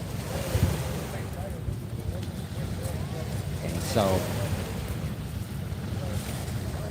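Waves wash in along an outdoor shore, a steady rushing surf with wind buffeting the microphone, heard under a voice talking.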